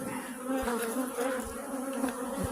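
Agitated honeybees buzz around an opened hive late in the day during a varroa check, a steady dense hum close to the listener with a few louder passes of individual bees.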